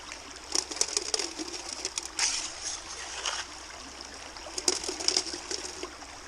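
Water trickles and splashes through a gold sluice outdoors, a faint uneven running flow with occasional brighter splashy bursts.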